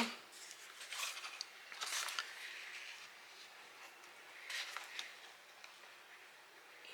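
Scissors snip through black iridescent ribbon while a Halloween treat box is assembled, giving two or three quick, crisp cutting bursts close by with quiet pauses between them.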